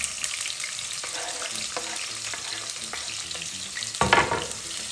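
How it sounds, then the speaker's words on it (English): Steady sizzling and crackling of onions frying in a pan for pilau, with occasional stirring scrapes and a louder burst of sizzle near the end. "First, I'll start by frying the onions."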